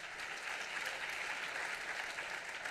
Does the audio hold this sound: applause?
yes